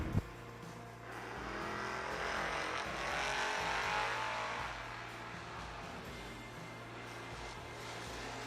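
Camaro drag racing car at a New Year Nationals drag meet, a broad engine roar that swells and fades as it passes at moderate distance, with a low steady hum underneath.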